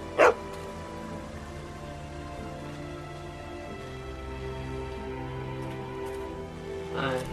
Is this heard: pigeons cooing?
no